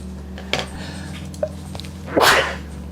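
A single sharp, breathy sneeze bursts out near the end, preceded by a couple of small clicks and soft noises in a quiet room.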